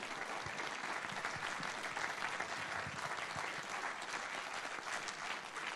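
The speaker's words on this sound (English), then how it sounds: "One more round of applause for them." Audience applause at a comedy show, steady dense clapping from a crowd that carries on evenly for several seconds, heard at a moderate distance and fairly quiet.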